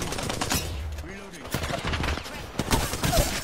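Rapid gunfire in the battle-royale video game Apex Legends, a burst of loud overlapping shots in quick succession with a voice talking in between.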